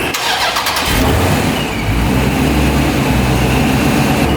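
A car engine fitted with a Procharger supercharger cranks briefly on the starter, then catches and settles into a loud, steady idle with a deep, continuous rumble.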